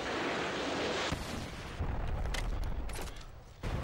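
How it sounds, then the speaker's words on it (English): A predator missile strike in Call of Duty MW3: a loud rumbling blast that roars and decays, then a second burst of crackling debris and gunfire-like pops, heard up close with no talk. "Friendly predator missile inbound."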